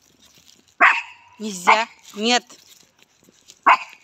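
A dog barks outdoors on a walk, a few sharp close barks with gaps between them, while someone speaks to it firmly in between.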